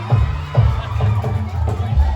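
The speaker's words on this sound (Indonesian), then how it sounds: "mari kita beri applause tepuk tangan untuk pertama kali Jenderal Van de Boom" A noisy village crowd cheers and shouts at an outdoor Indonesian Independence Day drama as a character comes on, a loud continuous roar with rhythmic low thumps underneath.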